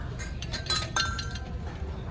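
A glass object handled nearby gives a few light, bright clinks and taps over a low steady background rumble.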